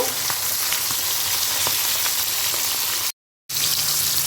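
Pabda fish and its roe frying in hot oil give a loud, steady sizzle and crackle throughout, broken by a brief silent gap just past the three-second mark.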